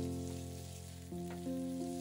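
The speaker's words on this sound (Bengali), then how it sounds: "আমি মশলার সাথে আলুটা আরও 2 মিনিট ভেজে নেব" Potatoes fry with spice paste in a pan for a hilsa fish head curry, a steady close sizzle that swells slightly midway, with no talking.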